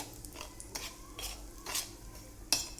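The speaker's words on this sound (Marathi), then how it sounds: "लोणचं नीट हलवते" A spoon scrapes and clinks against a pan while stirring green chili pickle, with several quiet, irregular scraping strokes over a faint sizzle and one sharper metallic knock near the end.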